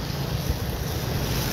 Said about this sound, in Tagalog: Kaso lang malakas talaga yung tubig, umapaw.